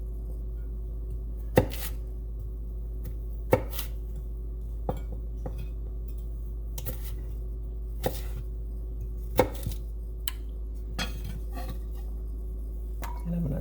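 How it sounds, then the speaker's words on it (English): Knife chopping sweet potatoes on a cutting board, sharp irregular taps spaced a second or two apart over a steady low hum, close and fairly quiet. "So I'm going to finish chopping these up."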